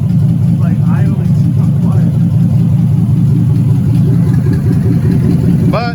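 An LS V8 in a Camaro idles steadily through open headers, a loud, low, even rumble held for several seconds, close by with a voice talking over it.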